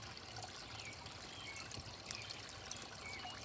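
Water trickles and splashes from a small garden pond fountain, a steady, soft, continuous burble heard alone at low level.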